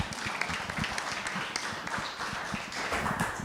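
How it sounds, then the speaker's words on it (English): Indoor audience at a city manager's coffee meeting claps in a brisk, continuous round of applause, many hands patting irregularly at moderate loudness. "if we could get another round of applause"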